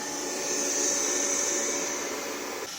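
A Xiaomi Mi G1 robot vacuum cleaner runs close by, giving a steady whining motor hum with a high-pitched fan tone that holds evenly throughout, with no talk.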